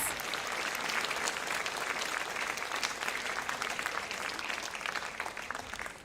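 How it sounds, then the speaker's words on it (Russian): A crowd applauds steadily throughout at a children's dance studio concert, a dense wash of clapping hands from an audience, even in volume from start to finish. "Ваши аплодисменты"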